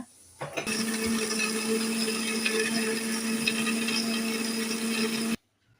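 A kitchen mixer grinder whirs steadily at high speed, grinding tomato and tamarind, a loud continuous motor drone that starts abruptly and cuts off near the end.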